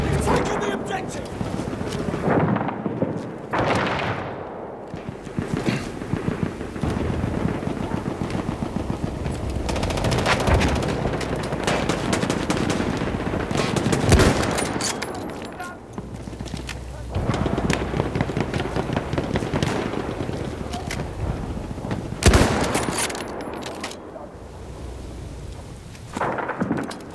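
Near-constant machine-gun and rifle fire in the video game Battlefield 1 rattles on, with heavy booms and distant blasts mixed in, loud throughout under occasional voices.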